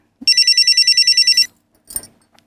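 A telephone rings in a police station, one loud rapid electronic trill of about a second, then a faint clunk as it is picked up.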